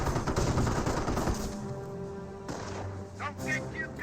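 Heavy gunfire at a garrison in Company of Heroes, loud rapid volleys crowding the opening seconds before easing into a lower battle din, with a commentator talking over it.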